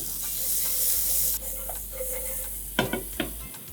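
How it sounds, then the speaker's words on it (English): Okra, or bhindi, frying in hot oil with a pinch of salt: a bright, steady sizzle that fades partway through, then a few clinking scrapes of a spoon stirring the pan, close and without talk. "A little more in this case because the whole idea is to fry the bhindi"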